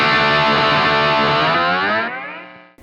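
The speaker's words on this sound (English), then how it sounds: "you can get this real neat sound if you manipulate this knob while you're playing something" Distorted electric guitar through a delay pedal as the delay knob is turned, its dense, repeating wash bending in pitch and then fading away, loud and close with no voices.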